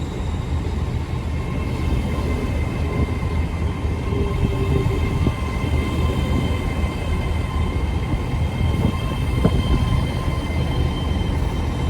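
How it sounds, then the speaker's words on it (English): A Great Western Railway train departs Swindon station with a steady, continuous rumble and hum of engines and wheels, close and even in level throughout, with no talking. "Departing out now is the delayed 1321 Great Western Railway service from Swansea to London Paddington."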